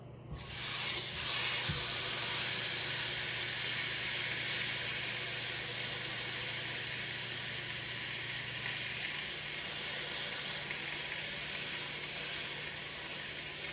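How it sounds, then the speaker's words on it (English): Pot roast searing in a hot pan: a steady, loud, continuous sizzle and hiss with a sharp crackle at the start as the meat hits the surface, holding constant throughout with no talking. "Get a good sear on every side."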